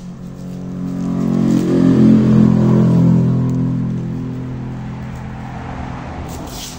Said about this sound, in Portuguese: como eu moro aqui na beira da pista, aí tem que aguentar esse barulho todo